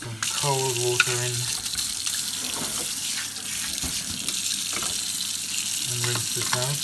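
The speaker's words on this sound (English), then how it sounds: "Put some cold water in." Cold water runs steadily from a tap into a sink, a continuous close splashing rush, with a voice briefly heard near the start and again near the end.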